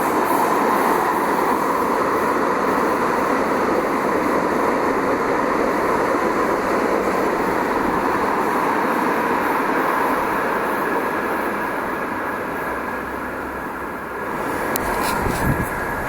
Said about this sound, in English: here comes a train now.